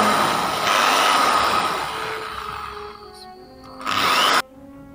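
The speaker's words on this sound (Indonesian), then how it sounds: "menggunakan bor." A power drill whirs loudly and continuously, its pitch wavering as it bites, then surges briefly before cutting off abruptly.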